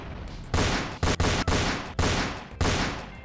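Shotgun blasts in a Fortnite knock-off video game: six loud, close booming shots at irregular intervals, each decaying quickly, with no talking.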